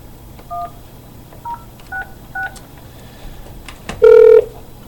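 A phone number is dialed on a telephone keypad: four separate touch-tone beeps in an uneven rhythm, then a louder, longer tone near the end. The tones are close and clear, with no voices.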